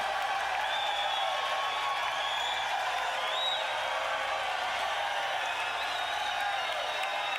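A live crowd at a concert cheers and applauds steadily throughout, a broad, sustained roar with shouts rising above it, fairly distant and without clear individual claps.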